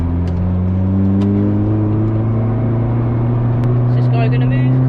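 Modified Honda car with a loud aftermarket exhaust droning steadily while driving, a deep sustained engine note that rises gradually in pitch as it accelerates, close and loud throughout.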